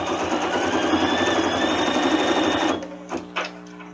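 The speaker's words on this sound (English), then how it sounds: "The machine is stitching" An embroidery machine stitches at a fast, steady mechanical rattle for nearly three seconds, then stops abruptly, leaving a few faint clicks and quiet handling noises.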